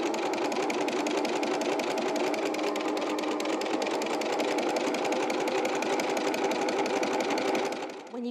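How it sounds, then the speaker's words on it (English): A sewing machine stitches steadily through a fabric project, a fast even mechanical whirring with rapid needle clicks, close and continuous before stopping at the end. "and we're sewing our project up."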